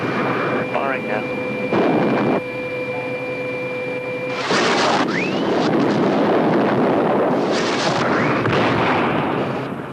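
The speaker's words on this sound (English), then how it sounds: "Target going. Armed. Firing now. Missile gone." A missile fired during a military exercise, a loud roaring whoosh of launch and sustained rocket rush amid tones and radio chatter, with voices speaking over it.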